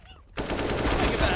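Gunfire in the video game CS:GO: a sudden dense burst of rapid shots begins after a brief quiet moment and continues loud and continuous to the end.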